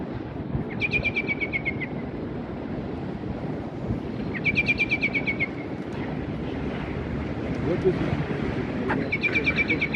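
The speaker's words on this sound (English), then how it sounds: "Wait, what is that bird? What is it?" A bird repeats a short trilled chirping phrase three times over steady outdoor wind and city rumble on an evening walk along New York's Little Island and High Line.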